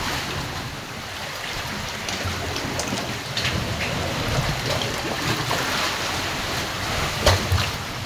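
High ocean waves surging and splashing near a small boat off an island, a continuous loud rushing wash of water with occasional sharper slaps and bursts.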